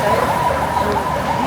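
An ambulance siren wails steadily through busy Hanoi street noise, its tone holding high and continuous for the whole moment, fairly loud and close.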